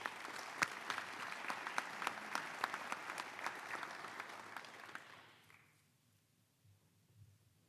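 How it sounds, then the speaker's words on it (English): Audience applause fills a Hall of Fame induction ceremony at Ottawa High School, a dense, steady burst of many hands clapping that fades out after about five seconds into near silence. "Can we give Susan a round of applause?"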